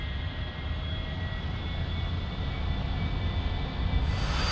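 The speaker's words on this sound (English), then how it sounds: "Gotta love that engine sound." A-4E Skyhawk jet engine in a flight simulator game hums and roars steadily at a constant pitch with a faint high whine, continuous and unchanging with no talking.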